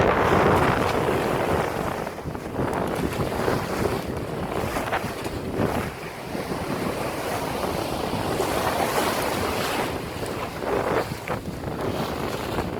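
A sailboat under full sail cuts through waves in a 12 to 15 knot wind: a constant roar of wind buffeting the microphone, with rushing water and surf washing past the hull and no speech.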